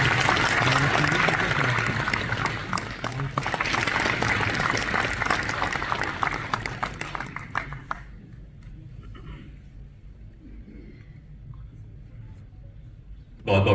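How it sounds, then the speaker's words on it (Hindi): Loud applause from a conference audience at a national cold water fisheries event, dense clapping for about eight seconds before thinning into scattered claps and fading. "तो इसके लिए जोरदार तालियां"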